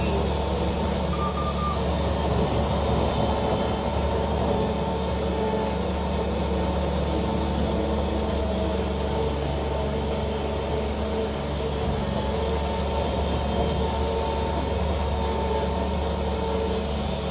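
A 2019 Bobcat S70 skid steer's engine runs at a steady idle close by, a continuous loud hum, with faint reversing beeps and no talking.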